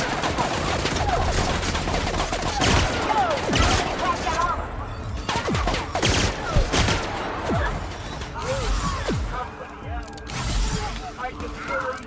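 Dense gunfire from a firefight in The Outer Worlds (Spacer's Choice Edition), with rapid volleys and sharp shots crackling over a steady loud battle bed, while voices shout amid the shooting.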